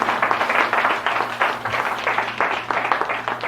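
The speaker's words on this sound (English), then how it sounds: "Give her a big round of applause" Studio audience applauding warmly together at a self-help seminar, a steady dense wash of clapping that holds loud and even throughout without a pause.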